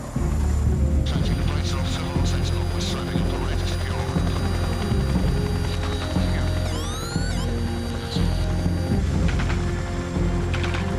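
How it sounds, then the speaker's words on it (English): Heavy, loud mechanical rotor and turbine drone from a Chinook helicopter during a live-ammunition military exercise, continuous throughout, with whining tones and clanking mechanisms layered on top. "Gary Baker leads his men out of the Chinook helicopter."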